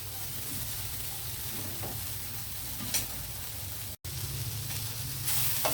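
Vegetables with spice powders stewing in a pan before macaroni is added for Indian-style pasta, a steady, even sizzle with faint stirring scrapes, close up, and one brief dropout near the end.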